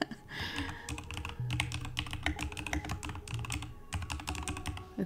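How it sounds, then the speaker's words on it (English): Mechanical keyboard struck in fast, dense runs of crisp clacking keystrokes, close-miked and continuous with brief gaps, no voices present. "It's one of those mechanical keyboards."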